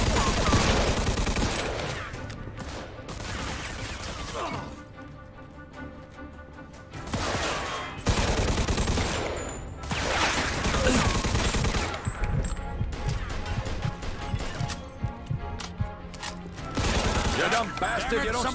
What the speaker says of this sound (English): I didn't even see that fucking asshole shooting me